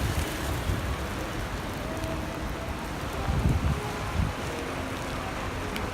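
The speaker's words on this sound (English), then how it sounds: "It is absolutely pouring rain right now." Heavy rain pours down in Tokyo, Japan, in a steady, dense hiss, with gusts of wind buffeting the microphone now and then.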